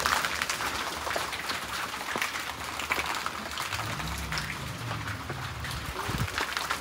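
Rain falling outdoors while a loaded truck is being emptied: dense, steady hiss of rain on surfaces with scattered drips and low rumbling handling noises in the background, no talk.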